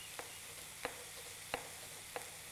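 Food sizzles steadily in a hot pan, with a soft continuous crackle and a few sharp little pops scattered through it.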